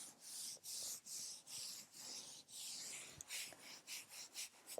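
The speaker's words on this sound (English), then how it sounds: "Let's just give them a little bit of a rub." Hands rubbing up and down both legs during a yin yoga session, a quiet, close swishing of skin and fabric in about a dozen steady strokes that quicken toward the end, with no talking.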